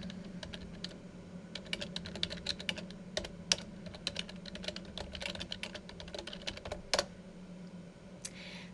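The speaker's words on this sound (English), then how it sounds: "So let me type a couple of things to demonstrate that for you." Steady typing on a computer keyboard, fast irregular key clicks running continuously with a few louder strokes, close and alone with no talk.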